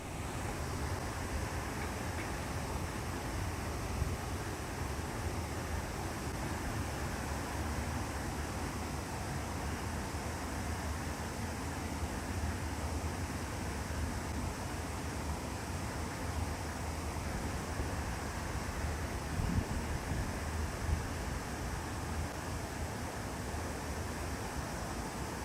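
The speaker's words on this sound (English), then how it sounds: "The lower the water levels dropped, the more noise from the leaky seals of the door." Water leaks through worn seals of a lock door on the Trent-Severn Waterway, producing a steady, unbroken rushing hiss, like distant surf, that holds an even level throughout with no voices.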